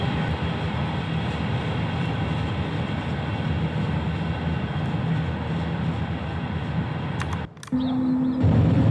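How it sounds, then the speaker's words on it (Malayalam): Long freight train with more than fifty wagons rumbling steadily in a train-driving simulator game on a route from El Paso to San Diego, a loud continuous engine and rail drone, then a brief interruption and a steady tone near the end. "ഇതൊരു വമ്പൻ ചരക്ക് ട്രെയിനാണ്"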